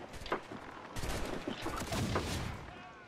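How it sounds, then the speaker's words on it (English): A swivel gun fires during a naval battle in Assassin's Creed 4: Black Flag, a rough burst of gunfire blasts that rumbles on for a few seconds, with faint speech under it. "I wanna use the swivel gun"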